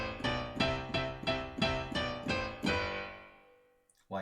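A piano hammers out about seven evenly spaced, forceful low left-hand octaves in 1950s doo-wop style that ring and fade, followed by one more struck after a short pause.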